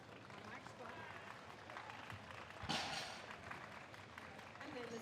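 Applause and clapping from a crowd for the women's deadlift podium at a Commonwealth classic powerlifting meet, a steady wash of hand claps with a brief louder burst, under an announcer's voice.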